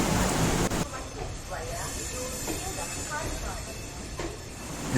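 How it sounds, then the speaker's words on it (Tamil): The Coimbatore–Madurai unreserved express, train number 16721, is running on its route. A steady rumble of wheels and carriages is heard from inside the train, with faint rattles and squeals over a constant roar. "நம்ம வண்டி ஷார்ப்பாக கோயம்புத்தூர்லேருந்து 2:30க்கு கிளம்பிருச்சு."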